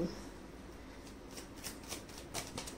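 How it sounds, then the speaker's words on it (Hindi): Tarot cards being shuffled and drawn up close, giving soft papery riffles and a few sharper flicking bursts over a quiet room background. "लेट्स सी, कुछ कार्ड्स और पुल कर लेते हैं।"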